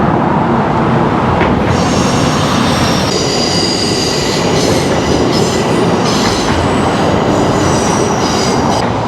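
A Metro-North Hudson Line train crosses a bridge in the Bronx near Kingsbridge and Marble Hill, a loud, continuous rumble and roar close by with high metallic wheel squeals rising and falling throughout.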